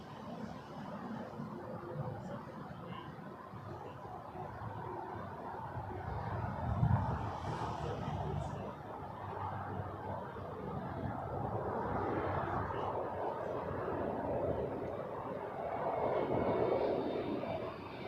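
Air Canada airliner taking off at Toronto Pearson airport, a sustained roar of jet engines that swells and fades over a long stretch, heard from a distance with steady low rumble.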